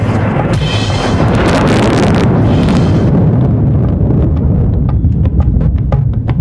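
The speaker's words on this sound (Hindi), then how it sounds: "छाई घटाएं घोर तो बादल गरज पड़े," Loud, rolling thunder crash in a devotional song, a heavy rumble and crackle that swells for a few seconds then fades into fainter ringing musical tones.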